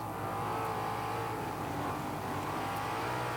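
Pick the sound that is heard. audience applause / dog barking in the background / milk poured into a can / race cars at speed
race cars at speed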